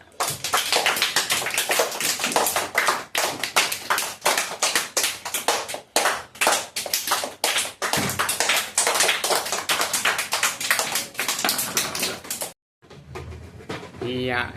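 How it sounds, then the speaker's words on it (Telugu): Students applaud a small prize winner at a tuition class, a sustained burst of many hands clapping close and loud for about twelve seconds, cutting off briefly before fainter clapping resumes. "క్లాప్స్ కొట్టండి."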